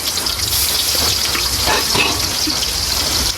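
Sliced onions dropped into hot oil and frying, a loud, close, steady rushing sizzle that holds strongly from start to finish.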